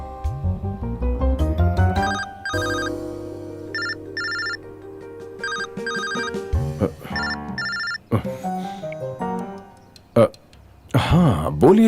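A telephone rings in repeated electronic bursts over a musical background, with voices speaking around the rings.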